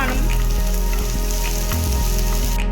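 Onions roasting in a hot pan, cooked at home for a prawn roast, sizzle and crackle loudly and continuously, with small pops scattered through the steady frying hiss.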